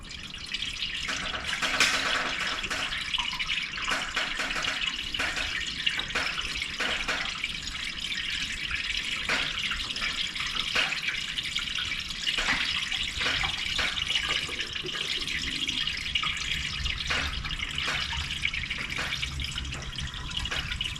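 Coolant pours steadily from a truck radiator onto the ground, a continuous splashing trickle with scattered drips and clicks, up close and unbroken throughout.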